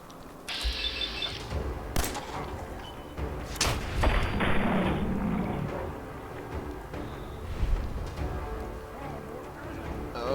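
Fallout 4 gunshots: several sharp bangs and thuds ring out among mechanical clanks and creaks, loud and close, spaced irregularly.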